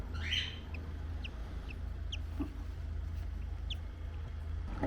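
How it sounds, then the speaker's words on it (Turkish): Three-day-old cockatiel chicks give faint, scattered high chirps and peeps against a steady low hum, with no talking. "Sultan papağan yavrusu böyle bir şey arkadaşlar"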